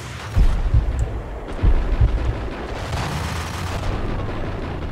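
Dual Uzi gunfire in the video game Max Payne, rendered as heavy bursts of booming shots in a few clusters over a dense, loud rumbling game soundscape.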